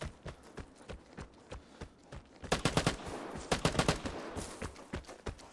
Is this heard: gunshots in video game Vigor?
yes